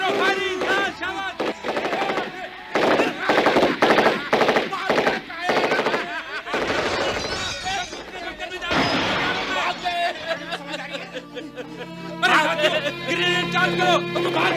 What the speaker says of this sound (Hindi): अरे दुश्मन आ रहे हैं, फायरिंग करो, फायरिंग।